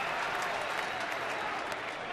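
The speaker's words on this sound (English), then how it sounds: "Listen to the crowd. Yeah, they're getting behind early." Baseball stadium crowd at a San Diego at Arizona game cheering and applauding, a dense, steady roar of claps and voices, with a commentator's voice faintly beneath.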